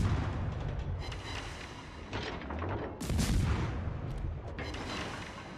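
Naval guns in a warship video game fire on an enemy battleship in repeated deep booms and rumbling salvos, with a few sharper blasts over constant battle noise.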